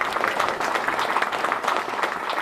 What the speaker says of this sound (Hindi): एक बार तालियां बजाइएगा।